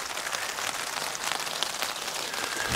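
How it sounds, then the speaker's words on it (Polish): Rain falls steadily at a lakeside campground on an evening, a dense even patter of drops hitting surfaces nearby, with no voices. "rozpadało się i w deszczu nie zamierzam tego robić."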